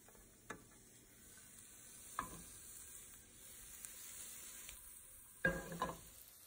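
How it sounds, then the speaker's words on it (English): Mushrooms sauteing in a pan of vegetable oil give a faint, steady sizzle, broken by a few sharp clicks and utensil knocks, with a louder clatter near the end. "I usually just saute them in a pan of vegetable oil"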